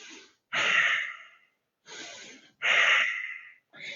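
Forceful breaths exhaled during a qigong stress-relief exercise: two strong, breathy whooshes with softer breaths between, close and alone with no talk.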